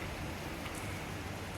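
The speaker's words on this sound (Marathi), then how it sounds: "खूप पाऊस पडतोय." Heavy rain pours down in a steady, even hiss that fills the space, with no breaks or other sounds.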